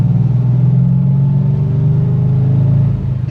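A manual Ford Crown Victoria's engine revs up as the car pulls away from a stop, its low rumble climbing steadily in pitch for a few seconds, loud and close, with no talking.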